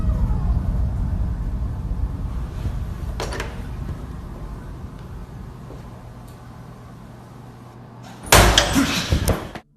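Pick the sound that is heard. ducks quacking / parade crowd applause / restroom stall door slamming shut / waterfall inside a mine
restroom stall door slamming shut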